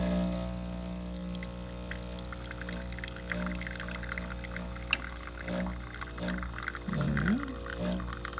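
Espresso trickles from a Pasquini Livia 90 machine into a small hand-held cup, a faint thin pour over a steady machine hum and low pump drone, with no talk.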